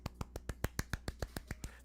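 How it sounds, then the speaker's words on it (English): Quiet, polite golf clapping during a live airsoft Q&A stream: about a dozen light, crisp claps in an even, quick rhythm, close and soft, with no talking. "Golf claps, everybody. Golf claps."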